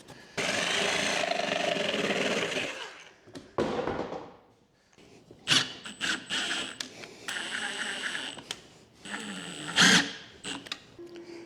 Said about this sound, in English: Now I just got to drill out a hole.